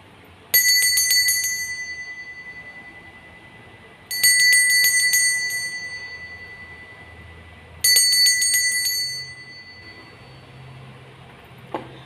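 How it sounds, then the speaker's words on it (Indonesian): Three bright, metallic bell rings at a steady interval, each struck sharply and left to ring out and fade before the next, loud and close over a quiet background, signalling the start. "akan dimulai dengan ditandai lonceng berbunyi"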